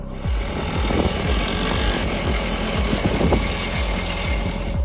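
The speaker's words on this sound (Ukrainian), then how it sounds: "Катання на мотоциклі по даху льодового палацу." Motorcycle ridden across the roof of an ice palace, a steady loud engine drone with repeated revving pulses throughout, no talking.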